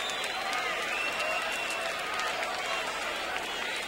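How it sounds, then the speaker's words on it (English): A boxing crowd at Caesar's Palace stands and cheers at the end of the 1979 Larry Holmes versus Earnie Shavers heavyweight rematch: a dense, continuous roar of cheering and applause that holds level throughout. "It ends for Earnie Shavers with the crowd standing and cheering his courage."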